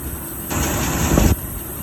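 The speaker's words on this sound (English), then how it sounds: "I've got some belt noise just from me being a little too loose" Engine of a 1983 Jeep CJ7 with a loose belt running close by, a steady mid-pitched mechanical drone that swells into a louder, rougher burst for under a second before settling back.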